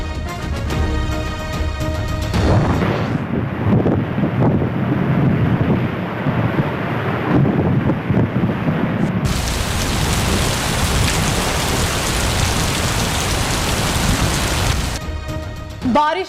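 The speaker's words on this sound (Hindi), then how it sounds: "बादल गरजे, जोर से बरसे" Heavy rain pouring steadily, with thunder rumbling through the downpour, loud and continuous over the whole stretch, alone without speech.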